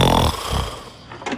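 A man snores loudly and close by, one heavy rasping, rattling inhalation that fades into a quieter wheezy breath.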